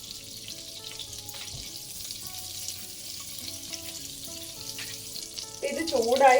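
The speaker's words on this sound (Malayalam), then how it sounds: "അത് ചൂടായി വരുമ്പോൾ ഇതിലേക്ക് ബട്ടർ ഇട്ട് കൊടുക്കുകയാണ്" About two tablespoons of butter melt and sizzle in a hot pan, a soft steady frying hiss that swells louder near the end, heard up close.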